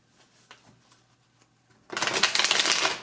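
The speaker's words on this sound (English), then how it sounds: "So I'll just keep putting cards out until I get the message." Tarot cards laid out and shuffled in a quick, dense burst of papery flicking after a near-silent stretch, close and fairly loud.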